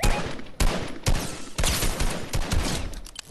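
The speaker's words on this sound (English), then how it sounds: "Yeah, they're shooting at us" Rapid bursts of gunfire in the video game Fortnite, several loud sharp volleys cracking in quick succession over about three seconds, close and dense with no talking.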